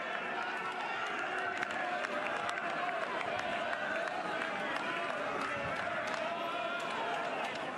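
A college baseball crowd at an Oklahoma versus Mississippi State game, a steady wash of cheering and applause spread across the stands, dense and continuous for the whole stretch, with crowd chatter mixed in.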